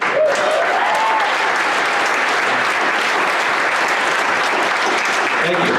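Comedy club audience applauding loudly and steadily, a dense wash of clapping sustained for several seconds with a few voices mixed in.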